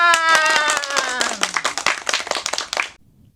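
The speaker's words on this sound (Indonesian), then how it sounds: "Tepuk tangan." Audience at a cultural heritage gathering clapping together, a burst of sharp hand claps starting over a fading held tone and thinning out before stopping abruptly, with voices mixed in.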